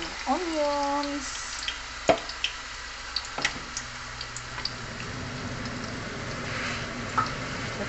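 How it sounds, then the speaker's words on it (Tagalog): Onions fry in plenty of oil for chicken curry with a soft, steady sizzle and occasional ticks and clicks from a utensil, while a voice speaks briefly near the start. "Kita niyo yung oil guys."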